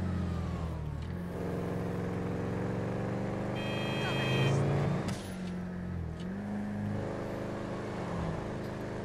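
Sabre Turbo muscle car engine in GTA 5, a steady droning rumble with rising revs midway and a brief sharper burst, continuous and close throughout.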